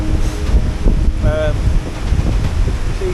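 Gusty November wind buffets the microphone on open hillside ground at Malham, a loud, continuous rumbling roar with uneven surges; a brief voice-like tone rises faintly through it midway.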